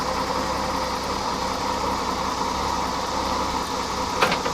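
A car engine treated with Sea Foam gas treatment idles and is gently revved, a steady close mechanical hum with a slight rise in pitch and no talking.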